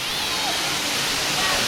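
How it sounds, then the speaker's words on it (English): A waterfall beyond a spot where kids are paddling sends up a steady, broadband rush of falling water that holds evenly throughout, with faint voices in the background. "And we've got the waterfall over there."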